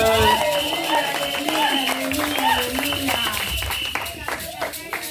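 A church congregation clapping to acclaim God, giving a steady run of sharp handclaps under a voice speaking and singing out over the crowd.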